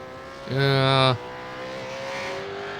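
Race car in the iRacing video game during a Trans-Tasman V8 race at Oran Park, a brief high-pitched engine rev and scrub as the car spins, then a lower engine drone continuing underneath.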